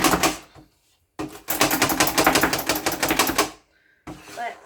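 Rapid, rhythmic clattering of a hand-operated food chopper comes in two loud bursts separated by a short pause, close and dry.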